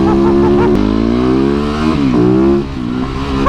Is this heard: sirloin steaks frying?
no